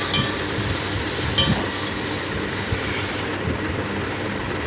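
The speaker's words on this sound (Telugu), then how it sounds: "తర్వాత తరిగి పెట్టుకున్న టమోటాలు కరివేపాకు వేసి మళ్ళీ వాడ్చుకోవాలి" Chopped tomatoes and curry leaves sautéing in a pan for a brinjal, mango and prawn curry, with a steady close sizzle and occasional light clinks of a stirring utensil against the pan.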